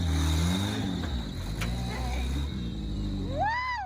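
A competition rock buggy engine revs loud and steady as it climbs a rock obstacle at an off-road event, with voices talking over the motor and a rising whistle-like tone near the end.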